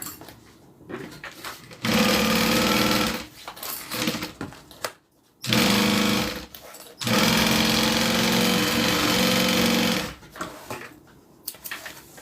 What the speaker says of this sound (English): sides are stitched together, and then now we need to just sew the side to the bottom.